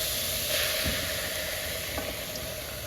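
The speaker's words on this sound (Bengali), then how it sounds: "কড়াইটা গরম হয়ে গেছে এখন আমি কেটে ধুয়ে নিছি লাউগুলো দিয়ে দিব" Steady, loud sizzling of cut bottle gourd frying in a hot pan, continuous and close, with a few soft stirring scrapes and no talking.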